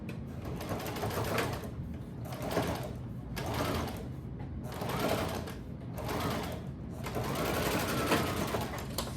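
A sewing machine runs a 5/8 seam on quilted rag tote bag blocks, its close, steady mechanical whir pulsing in repeated bursts with brief slowdowns between runs.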